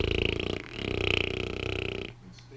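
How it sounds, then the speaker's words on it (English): A gift novelty toy plays a loud, buzzy fart noise with a rapid pulsing rattle, rising again after a short dip and ending abruptly. "Fart noise."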